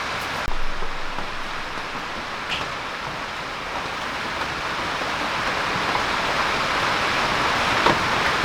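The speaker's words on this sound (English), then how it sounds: "Sorry about the rain, it's been a bit of a storm out there" Steady rain falls during a storm, a dense, even hiss of drops on surfaces close by that continues throughout with no voices, its intensity building slightly toward the end.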